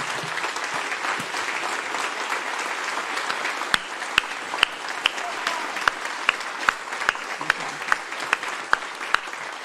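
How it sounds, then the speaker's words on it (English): A standing church congregation gives a round of applause, a dense wash of many hands with a few sharp, louder nearby claps punctuating it steadily throughout. "Could we stand and give these ladies a big round of applause for being so courageous?"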